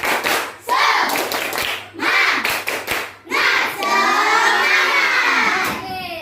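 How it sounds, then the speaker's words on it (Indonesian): Third-grade classroom children clap a rhythmic spirit chant in short, loud bursts of patterned claps, with young voices chanting between and over them. "Yuk, tepuk semangat"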